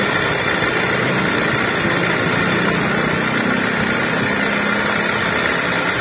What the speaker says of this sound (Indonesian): suara inilah yang menjadi penyebab suara mesin jadi berisik